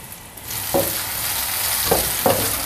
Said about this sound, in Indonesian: Nah ini sudah panas, masukkan udang dan jamur.